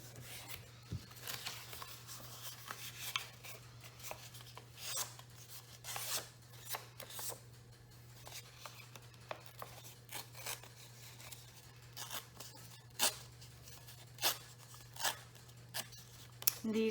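Paper being folded in half for a handmade shabby-style journal: soft, close rustles and crisp creasing scrapes repeat in an uneven rhythm over a faint steady hum.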